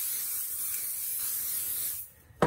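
505 spray adhesive hisses from an aerosol can onto batting in one steady two-second burst, followed by a short pause and a brief final puff of spray, close and clear with no talk.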